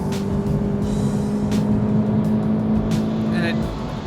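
Subaru BRZ driven hard into a corner, engine note holding steady and strong through the turn with road and wind noise around it, then easing slightly at the end.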